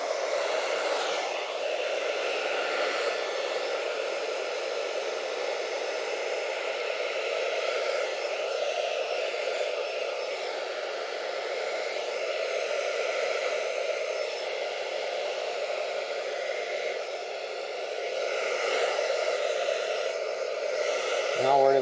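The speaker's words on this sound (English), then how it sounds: "So now you can use the blow dryer." A blow dryer runs steadily on a painting, giving a continuous close whooshing roar of air that stays even for about twenty seconds with slight variations.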